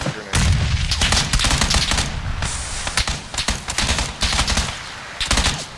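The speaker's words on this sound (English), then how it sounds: "Oh, they're all trying to shoot at me, Cooper" Video game gunfire in a chaotic multiplayer shootout, dense rapid bursts of loud automatic shots and booms, nearly continuous with short gaps, no talking over it.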